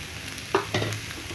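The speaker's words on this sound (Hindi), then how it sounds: "अब मैं इसके अंदर डाल रही हूँ पत्ता गोभी" Shredded cabbage tips into a hot pan of sautéing spinach batter mixture, a soft thump and rustle followed by a brief sizzle and stirring scrape, close and fairly quiet.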